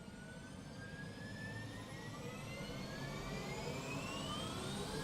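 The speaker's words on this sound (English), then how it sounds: "The helicopter actually makes an amazing riser sound when it's just starting up." A helicopter engine spins up, a steady roar with whining tones that rise slowly in pitch, moderately distant and with no talking.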